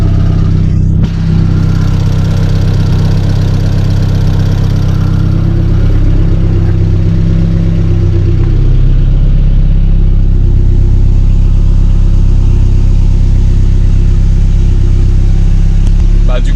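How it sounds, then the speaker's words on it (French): A Volkswagen Golf engine runs loud and close with a deep, steady mechanical drone, and the clutch is slipping. Revs rise and fall slightly while a voice talks over the engine throughout. "que t'entends, c'est l'embrayage."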